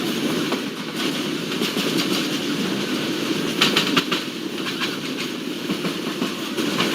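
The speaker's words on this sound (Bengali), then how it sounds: "এক্সপ্রেস মেইন লাইন থেকে টাঙ্গাইল রেলওয়ে স্টেশনের লুপ লাইনে প্রবেশ করে গেল" Rangpur Express train in a Bangladesh railway simulator game, rolling from the main line into the Tangail station loop, with steady close rumble and repeated clickety-clack wheel beats over rails, no talking.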